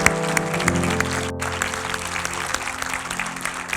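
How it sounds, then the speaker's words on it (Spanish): A crowd claps steadily and warmly throughout, a sustained round of applause in a large church hall with some music underneath. "Denle un aplauso a esos guerreros."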